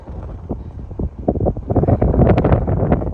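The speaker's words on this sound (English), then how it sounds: "And it's windy up here." Strong wind buffets the microphone in loud, rumbling gusts that build and swell on a hilltop in Ferncliff Forest, Rhinebeck, NY, under storm clouds, with no voices.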